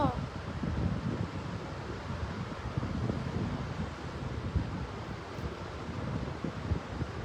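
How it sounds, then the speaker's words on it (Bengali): Strong pre-rain wind buffeting the microphone with rumbling gusts, a loud steady roar throughout, with no clear voices standing out. "বুঝছো আজকে কি বাতাস"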